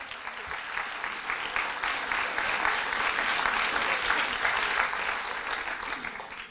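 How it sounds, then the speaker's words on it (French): An audience at a middle-school eloquence contest final applauds the jury members, a dense, even round of clapping that swells slightly in the middle and continues steadily for several seconds. "Donc on peut applaudir tous les membres du jury."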